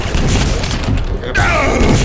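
Rocket launcher blast in Quake 3 Team Arena: a loud, heavy boom and crash filling the moment, with a sharp change partway as a new impact hits.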